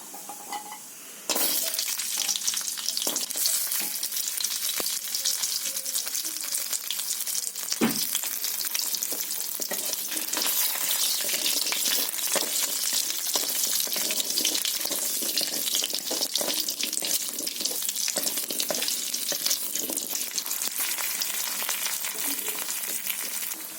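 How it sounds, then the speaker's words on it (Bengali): Bori, small sun-dried lentil dumplings, frying in oil in a wok (kadai), a steady loud bubbling sizzle that runs on for about twenty seconds, with a few clicks and stirring knocks and no talk. "আমি বড়িটা ভেজে নেব।"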